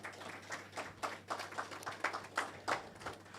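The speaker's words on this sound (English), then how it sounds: "Give them a round of applause." Applause from an audience at the launch of a STEM summer camp in Western Jamaica, heard as faint, distant clapping from a small group with an uneven rhythm and no talking.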